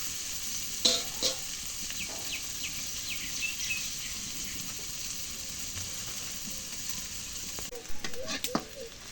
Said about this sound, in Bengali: মরিচটা একটা রসুনটা তেলে ভাজা হোক